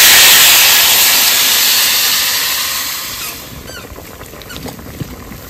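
Water poured into frying masala with cauliflower in a pan makes a loud steam hiss that fades over a few seconds into quieter bubbling and sizzling.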